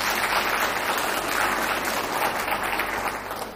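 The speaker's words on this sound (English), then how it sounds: "Can we have a round of applause for the beautiful audience?" An audience at a community care-work event applauds in a steady, dense round of clapping that stays loud and even for several seconds, with no voices breaking through.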